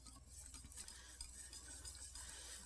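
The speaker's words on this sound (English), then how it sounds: "we can incorporate the rest of the liquid and stir softly" Milk being whisked into a roux for béchamel sauce: a soft, continuous swishing of a whisk in a pot with faint scraping and low background hum, quiet and close.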